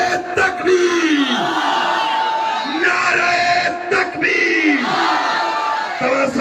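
A large crowd at a political rally in Bakar Jamali, Sindh, chanting a loud, massed response to the 'Nara-e-Takbir' slogan: repeated roaring shouts in rhythmic waves, close and full.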